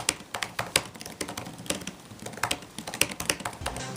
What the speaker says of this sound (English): give you a feel for what the keyboard sounds like.